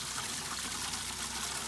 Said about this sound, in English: That's the kind of water flow you're going to be getting.